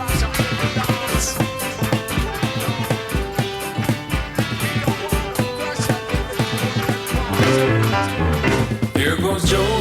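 A song plays at an album launch party, a steady rhythmic groove of bass, drums and other instruments carrying on continuously at a moderate volume.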